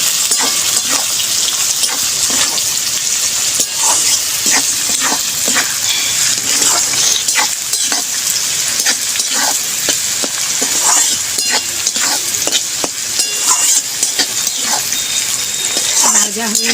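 Green chillies, whole and slit, fry in a pan for fried rice, giving a loud, continuous sizzle close up, broken by frequent sharp spatters and stirring clatters while someone speaks now and then.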